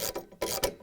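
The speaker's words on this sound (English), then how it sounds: "we're going to use a 19mm socket wrench to tighten the bolt" A 19mm socket wrench ratcheting a bolt tight on a Samsung washer during a center tub seal replacement: three quick, close rasping ratchet strokes with short pauses between.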